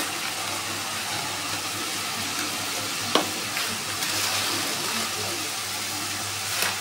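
Tomato paste is stirred and fried in a pan with a steady, even sizzle and a few soft scrapes of a spoon against the pan, heard up close with no talking.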